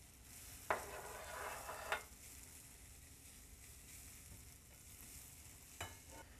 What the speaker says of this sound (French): Je fais fondre un peu mon beurre dans ma poêle. Je fais tomber mes échalotes.